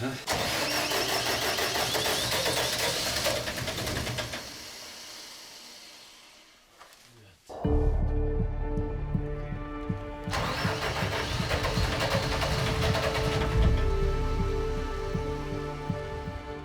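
An engine cranked and started on a first attempt at a snowbound mountain hut at 3250 m, with a long churning crank, a pause, then the engine catching into a steady idle, with people talking over it.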